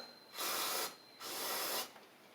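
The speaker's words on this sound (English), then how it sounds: "spray a little bit of fluid directly down in there" Two short hissing bursts of aerosol spray into the engine of a seized Toro Z2550 zero-turn mower, each lasting about half a second, separated by a brief pause, close and fairly quiet.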